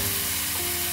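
Raw diced carrot dropped into a hot pan with browned ingredients, giving a steady, close, loud sizzle and hiss of frying throughout.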